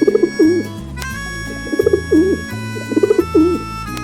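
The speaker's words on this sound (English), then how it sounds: "Pigeon," A pigeon coos in several soft, rolling bursts grouped in pairs and triplets, close and clear over gentle background music.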